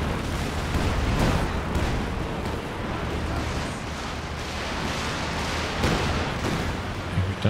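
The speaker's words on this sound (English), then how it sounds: "we've got a Katyusha to follow up now from Deadbolt. That's kind of what I was expecting, more rocket artillery." Katyusha rocket artillery barrage in Company of Heroes 2, a dense, continuous roar of launches and impacts with repeated booms and crackling bursts layered over a constant battle din, loud throughout.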